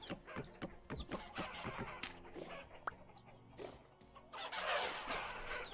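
Chickens in the video game Vintage Story, a string of short clucks and squawks at close range over a busy game soundscape, with a brief harsher burst of noise near the end.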